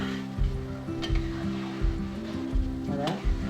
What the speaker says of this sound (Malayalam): ഇത് നമ്മൾ വെളിച്ചെണ്ണ ഇവിടെ കുറുകി വരുന്നുണ്ട്